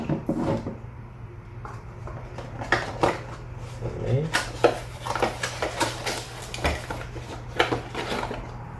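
Irregular small clicks and clacks of handled plastic parts of a solar-powered wild boar repeller, close by, scattered through the clip with a low steady hum underneath.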